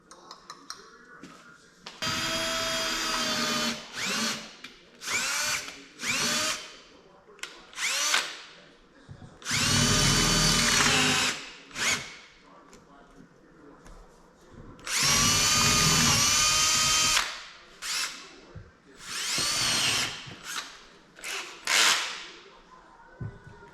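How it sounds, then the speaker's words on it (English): Power drill boring holes out to 1/4 inch in a custom Peterbilt drop visor, several loud whining bursts of a few seconds each, separated by short pauses and quiet handling noises. "gonna have to drill these out to 1/4 inch."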